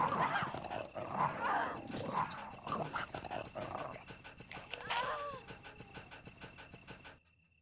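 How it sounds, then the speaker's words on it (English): Several dogs bark and pant in Resident Evil: Director's Cut, a run of close, rough barks and breathy sounds over a rumbling game background. A voice speaks among them before the sound cuts off near the end. "I don't remember there being that many dogs there."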